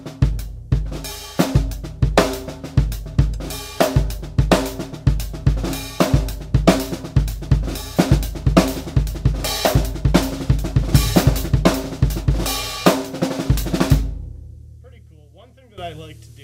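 A drum kit works through a songo groove, starting slowly and picking up speed, with steady, punchy hits and syncopated accents carrying close and loud before the playing stops and rings out.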